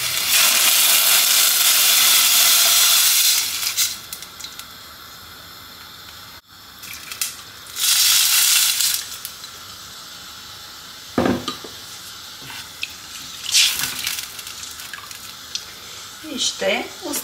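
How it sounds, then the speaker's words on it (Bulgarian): Water poured into a soup pot for a classic meatball soup, a steady loud gushing rush for a few seconds, then a second brief pour, followed by quieter drips, clinks and kitchen sounds. "Ще налеем вода."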